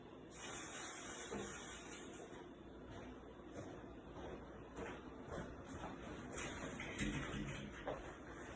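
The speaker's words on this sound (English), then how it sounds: "That's why you hear water boiling in the background." Steady bubbling hiss of water boiling in a pot for hard-boiled eggs, continuous and fairly close, with no voices.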